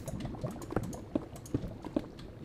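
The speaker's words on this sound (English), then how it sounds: "I swear the lava has changed sound since last time I played" Lava bubbling in Minecraft, a series of soft, wet pops and gurgles at an irregular pace, fairly close and moderately quiet, with no talking over it.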